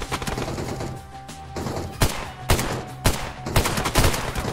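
Rapid bursts of gunfire in a squad battle royale shooter game, sharp loud cracks in irregular clusters over a dense, noisy background, with several distinct shots standing out toward the end.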